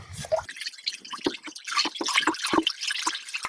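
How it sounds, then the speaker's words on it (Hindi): A wooden stick stirs cow dung into water in a tank to make organic liquid fertilizer, giving wet sloshing and dripping splashes in a steady irregular rhythm, close and moderately quiet. "अब हम इस लकड़ी की सहायता से इसको अच्छी तरह से मिलाते हैं।"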